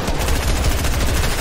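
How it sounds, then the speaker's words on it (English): Rapid automatic gunfire from the video game Fortnite, a loud dense burst of shots in quick succession filling the whole moment with no talk over it. "he just keeps shooting me with the rocket"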